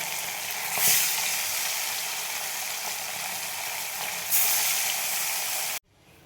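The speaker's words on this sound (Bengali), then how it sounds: "একবারে তো ভাজা যাবে না, দু তিনবারে ভাজতে হবে।" Kajuli fish fry in hot oil in a kadai, a loud steady sizzle with a couple of sharp spits before it cuts off abruptly near the end.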